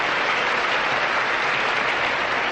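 A large audience at the 1988 Miss Universe pageant applauds in a continuous, even burst of clapping that stays loud throughout.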